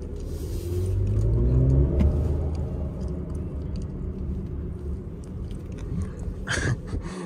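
A 2023 Mercedes EQE SUV, fully electric and in sport mode, drives at night with a steady low rumble of road and tire noise from inside the cabin, swelling slightly early on and then holding even.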